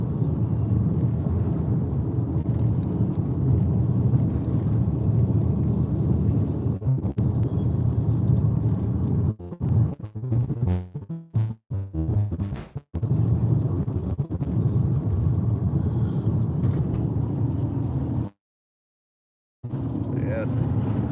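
Steady low road rumble from inside a car cruising at about 100 km/h on a highway behind a truck, a continuous broadband drone with brief dropouts and a short silent gap near the end; voices talk over it at times.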